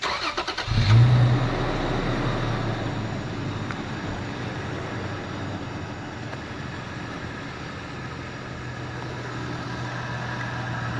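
A truck engine turns over and starts, then idles steadily with a low, constant rumble close by.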